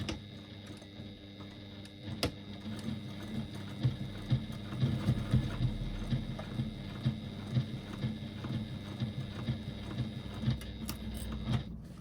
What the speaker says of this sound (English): Again, top stitching about an 1/8 of an inch, which will hold the seam allowance in place.